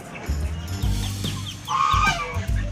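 Rhode Island Red breeder chickens clucking inside a roomy coop, several birds giving short overlapping clucks and calls up close, with a louder burst of clucking near the end and no one talking.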